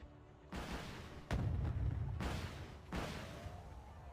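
Heavy tank gunfire in the wargame Wargame: Airland Battle as units open fire on T-80 tanks: three loud booming cannon blasts with rumbling tails, spaced about a second apart.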